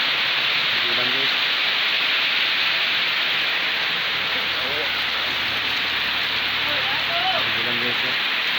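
Steady, dense rain pours down outdoors, a constant loud hiss filling the whole stretch, with a few faint voices murmuring under the downpour.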